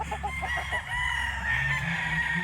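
A Boston Roundhead gamefowl rooster crows on a farm, one long drawn-out call over low background rumble and other fowl noise nearby.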